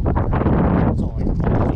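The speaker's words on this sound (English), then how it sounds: "It's windy. It's crazy." Loud, constant wind buffeting the microphone, a dense low roar with gusty rumbling that barely lets up.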